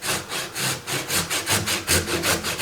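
A hand saw cuts a notch into a roundwood timber tenon for an off-grid earthbag workshop roof support, with loud, close, rhythmic back-and-forth strokes, about a dozen in quick succession.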